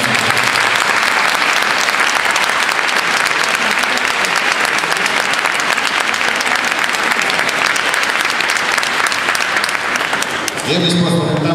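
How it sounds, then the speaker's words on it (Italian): A crowd gives sustained, loud applause as someone exits, a thick continuous roar of clapping that holds steady for several seconds before a voice cuts in at the end. "con un applauso in uscita"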